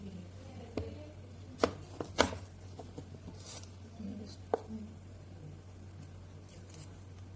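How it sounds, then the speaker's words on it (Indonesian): A knife slices and peels jicama on a kitchen board while cooking, giving a few sharp, scattered chopping clicks at irregular intervals over a low steady background hum. "Saya potong. Terus dikupas kulitnya supaya makannya bisa enak."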